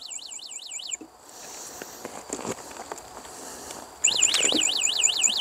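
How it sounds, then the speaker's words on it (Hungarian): A DYU A5 Mini e-bike's anti-theft alarm shrills in rapid warbling, siren-like sweeps, cutting off briefly and then blaring loud again over shuffling and handling noise close by. "És már riaszt is, mint állat."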